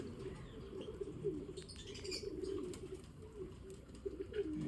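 Racing pigeons arrive at a loft during a 107 km fun race, with low cooing and soft wing flutters over a constant ambient murmur and occasional faint chirps.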